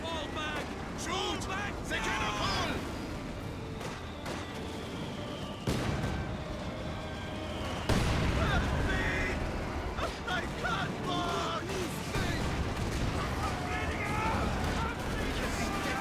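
Grenades thrown by Soviet guards squads explode amid battle in Company of Heroes 2, several sharp blasts and gunfire bursts scattered across a busy war soundscape, with a commentator talking over much of it.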